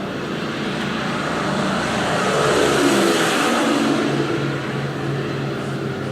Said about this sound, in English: I love the sound of those engines